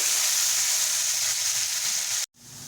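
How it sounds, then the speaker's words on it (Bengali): Diced potatoes sizzling in hot oil, a loud steady crackling hiss that runs unbroken, then cuts out abruptly near the end before the sizzle resumes more quietly. "প্রথমে আলুটাকে ভালো করে ভেজে নেব"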